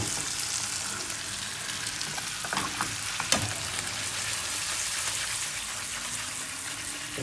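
Chicken pieces frying in butter in a pan, a steady close sizzle with occasional clicks and scrapes of tongs turning the meat.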